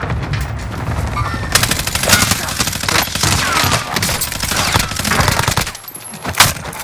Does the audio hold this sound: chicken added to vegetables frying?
no